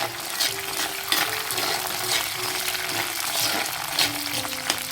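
Curry leaves fry in hot oil for a Kerala-style mango pickle, giving a close, constant sizzling crackle with occasional scrapes of a stirring spoon; nobody talks.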